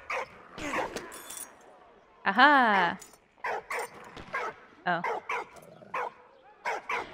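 Dog barking in the Valiant Hearts war game: several short, sharp yips and barks spaced through the passage with a whimpering whine in the middle, close and loud, interleaved with someone talking.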